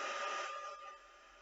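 A handheld craft dryer drying ink on a paper craft project, a steady close blowing whir that fades and tapers off within about a second.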